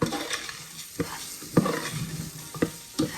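Split peas frying with salt and ajwain in a pot, stirred with a spoon in a few distinct scraping strokes over a low, steady sizzle, close and alone.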